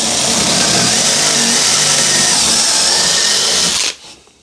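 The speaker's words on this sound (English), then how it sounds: "I've got a 9mm drill. It's not brilliantly sharp though," A power drill with a dull 9mm bit runs loud and steady for about four seconds, its broadband whine grinding through material before cutting off abruptly.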